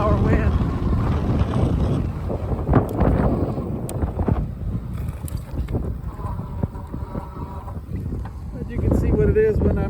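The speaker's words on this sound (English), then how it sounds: "It's about a 25-mile-an-hour wind." A strong headwind of about 25 mph roars and buffets across the microphone while a Philodo AWD H8 Adventure electric bike is ridden into it, a constant loud rumble with someone talking throughout.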